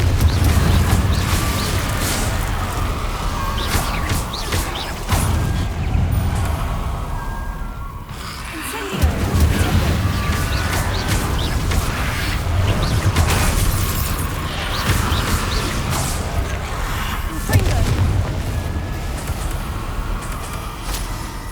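A Confringo blasting spell explodes in Hogwarts Legacy amid a fight with inferi, heard as booming bursts layered over constant loud game noise, music and effects.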